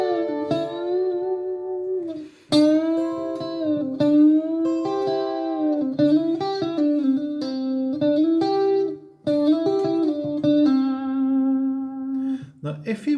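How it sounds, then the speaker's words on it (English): A distorted electric guitar plays a repeating riff of sustained, gritty notes with short breaks between phrases, loud and close with no other sounds. "Exercise 2 of Guitar Riffs page 1 should sound like this."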